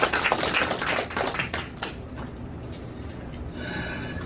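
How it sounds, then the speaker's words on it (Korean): Audience applause in thanks to a pastor after a sermon at a general assembly meeting, a burst of dense clapping that fades within about two seconds, leaving quiet room tone. "오늘 우리 귀한 말씀 주신 목사님께 감사의 박수 한번 하시겠습니다."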